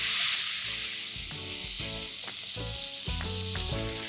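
Onions, green chilies and tomatoes fry in a pan, giving a steady close sizzle with repeated stirring and scraping knocks throughout.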